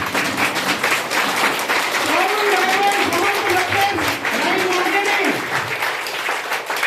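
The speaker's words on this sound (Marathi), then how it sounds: "जोरदार टाळ्यांमध्ये मी तुमच्या सगळ्यांच्या संमतीने आमंत्रित करतो श्री श्याम काळीवाडकर" An assembled crowd gives loud, sustained applause to welcome an invited guest at a gathering, while a voice talks over the clapping.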